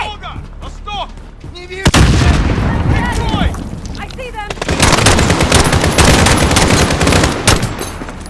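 Loud bursts of automatic gunfire and heavy booms in the war video game Captive, with shouted voices early on before sustained rapid firing fills the rest.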